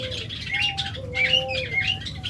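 Caged doves for sale give soft coos and high chirps in a few quick overlapping calls, fairly close, over a low background hum and with no voices.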